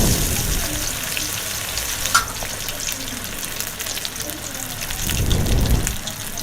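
Fish pieces fry in hot oil in a kadhai with a continuous crackling sizzle. A few louder spits and bubbling surges rise toward the end.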